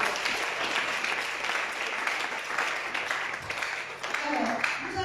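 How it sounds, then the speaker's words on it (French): A church congregation applauding loudly and steadily at a sermon, broad dense clapping sustained throughout with a few voices mixed in. "Je voudrais que tu acclames très très fort"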